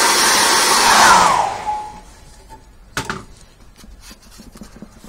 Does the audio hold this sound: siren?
no